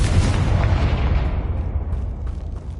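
A Confringo blast spell in Hogwarts Legacy explodes as a loud, broad boom right at the start, then rumbles and fades away over about three seconds with no voices over it.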